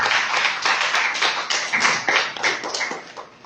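A church congregation applauds at a Spanish-language Bible study: a dense, close burst of many hands clapping that keeps a steady rhythmic pulse for a few seconds, then thins slightly toward the end, with no speech over it.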